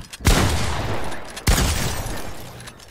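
Two heavy gunshot blasts in a video game, the first just after the start and the second about a second later, each trailing off into a long rumbling echo.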